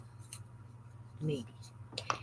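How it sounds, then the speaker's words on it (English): Scissors cutting paper for a robot collage make a short snip and crisp rustle of paper, close and fairly quiet against a steady low hum. "We will take scissors and we'll do the stick part of the bolt"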